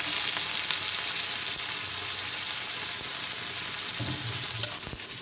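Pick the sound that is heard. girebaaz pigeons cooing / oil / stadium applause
oil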